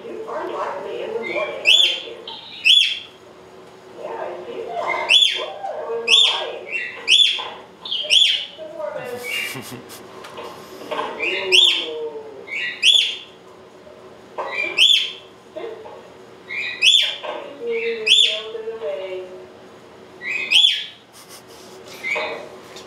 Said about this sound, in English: The bird is talking to himself.